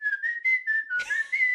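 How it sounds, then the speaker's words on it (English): Someone whistles a tune up close, a string of clear short notes and then a longer sliding phrase, alone with no talking. "you need to give us an album of you whistling greatest hits"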